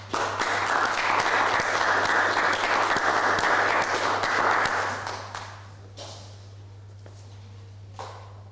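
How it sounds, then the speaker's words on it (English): A graduation ceremony audience applauds steadily and loudly for about five seconds, then the clapping fades to scattered claps, with a low steady hum underneath throughout. "Let's give a final round of applause for the higher certificate in sport, recreation and fitness management."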